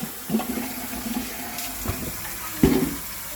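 Tap water running over stew peas being washed in a sink, a steady splashing stream with a few louder gushes and clatters, close and fairly loud, with no talking.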